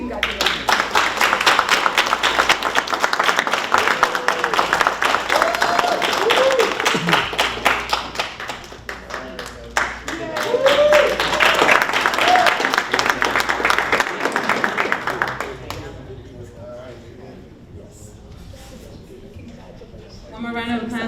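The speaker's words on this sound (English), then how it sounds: "One more round of applause for Mr." A crowd at a graduation ceremony for Lowe's and NCCER construction trainees claps for a graduate, bursts of applause rising and falling over a long stretch with voices calling out and a speaker talking over it.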